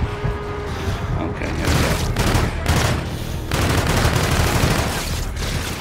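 Rapid SMG fire in the video game Call of Duty: Infinite Warfare, dense bursts of loud automatic shots mixed with explosions and battle noise, with a voice speaking underneath.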